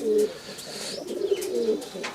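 A pigeon in a dealer's collection of pigeons for sale coos softly nearby, giving a few low, rolling coos in a quiet setting.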